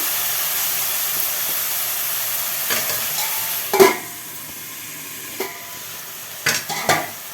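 Prawns and broad beans frying in oil for a curry, with a steady close sizzle and hiss broken by a few sharper stirring scrapes and clatters, no voices.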